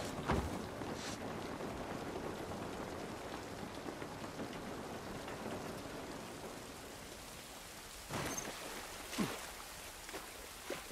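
Steady rain falls in The Last of Us Part 1 video game, a soft continuous hiss of drops on surfaces with a few sharper splashes, fairly quiet and without talking.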